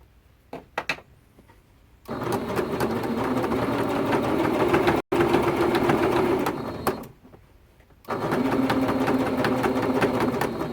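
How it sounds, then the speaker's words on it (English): A sewing machine runs in two long, steady bursts, stitching binding into the corner of a T-shirt quilt. It whirs close and loud with a brief pause between, and a few light clicks come before the first burst. "I'm going to go ahead and sew into this corner"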